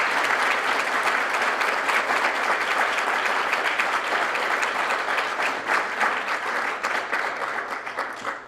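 A dense, continuous round of audience applause fills a hall at the AGSF Taking Flight Awards Ceremony, loud and steady throughout, tapering slightly at the very end.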